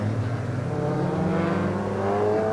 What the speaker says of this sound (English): they roar the way down towards turn number 1